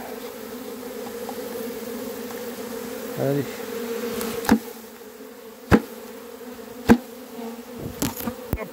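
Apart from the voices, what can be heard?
bees buzzing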